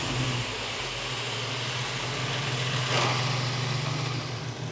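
A Volkswagen Passat R36 engine runs steadily after being restarted, with a constant low idle hum and a growing rattly character. It sounds fairly close, and no voices are heard.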